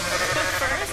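Goat bleating in the game Goat Simulator, a single wavering, nasal cry lasting about a second, loud and close, with steady game noise around it.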